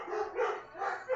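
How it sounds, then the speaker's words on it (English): Dogs barking at someone at a window indoors: three quick, moderately loud barks in rapid succession, slightly muffled, with no talking. "I'll show you my dogs are going crazy."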